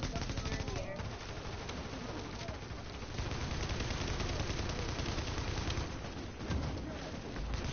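Automatic gunfire in The Division video game, with dense rapid bursts of shots and short pauses throughout, up close and fairly loud, with voices faintly mixed in.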